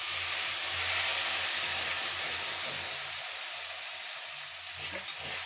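Rui fish gravy masala fries in oil, Kolkata style, with a loud, steady, close sizzle and hiss that runs unbroken, a low hum beneath it and occasional stirring, with no voices.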